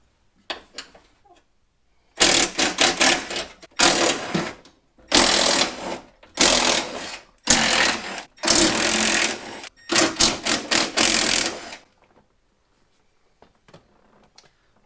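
A power tool zips bolts out of a Jeep Cherokee XJ door during a power window regulator repair, loud bursts of about one to two seconds repeating roughly seven times with short pauses, alone without talk.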